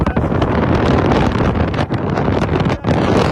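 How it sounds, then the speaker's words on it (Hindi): A strong storm wind in Himachal Pradesh roars continuously, buffeting the microphone in loud, rough gusts that briefly ease twice before surging back. "ये देखिए ये मौसम की गड़गड़ाहट है।"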